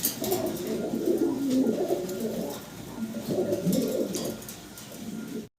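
Soft, low cooing of four fancy pigeons, rolling and overlapping continuously, fairly close, with a faint hiss of background noise.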